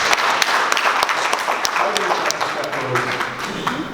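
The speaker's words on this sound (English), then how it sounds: "So let's give her a round of applause." Listeners at an elections conflict prevention and mediation gathering applaud the sign language interpreter; dense, steady clapping fills the room while voices carry on underneath.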